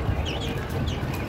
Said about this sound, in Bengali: আপনাদের কোয়েল পাখিগুলিকে কীভাবে খাবার দেয়, আর খাবার টাইম হইলে ওরা কী শুরু করে দেয়